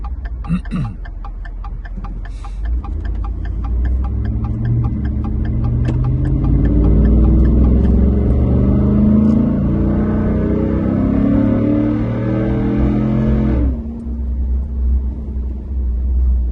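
Inside a 2012 Ford Raptor with a Corsa Extreme exhaust and the windows up: ticking at first, then a loud, deep engine drone that rises in pitch as the truck accelerates and rolls back off near the end.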